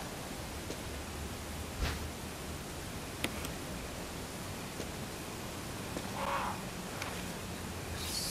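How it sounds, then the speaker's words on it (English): Crows caw faintly in the Resident Evil video game, a few distant calls rising briefly over a steady hiss of ambient background noise. "I don't want to disturb the crows."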